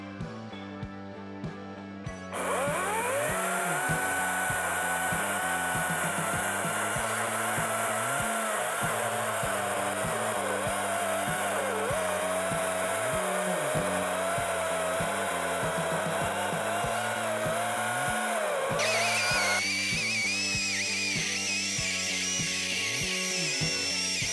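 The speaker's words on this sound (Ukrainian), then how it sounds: "Тестувати нашу пилку будемо на черешитому дубі розмір 40 на 28" A Procraft PCA40/2 cordless chainsaw whines steadily while cutting through a 40 by 28 oak log, the motor pitch wavering under load for a long continuous stretch.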